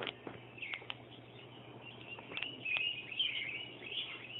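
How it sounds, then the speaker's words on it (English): Songbirds chirp and twitter through a quiet morning, scattered short calls at moderate distance over a low steady hum, no voices. "The birds sound so pretty."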